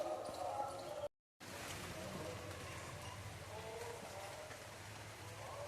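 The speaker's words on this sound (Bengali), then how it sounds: "বৃষ্টি হচ্ছে" Rain falling outdoors in a village: a soft, steady hiss of drops with a brief break of silence near the start, faint and continuous.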